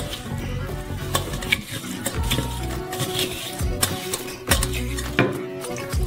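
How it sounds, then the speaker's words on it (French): Watermelon pulp is pressed through a strainer to squeeze out its juice, wet squelching and dripping with repeated scraping pushes and clinks, close and fairly loud. "Pressez le jus."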